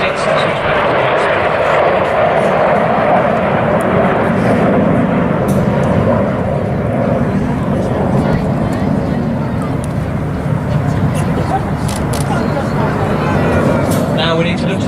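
Red Arrows jets performing an airshow display at Duxford produce a loud, continuous broadband roar that persists without letup, with a commentator's voice running over the engine noise throughout.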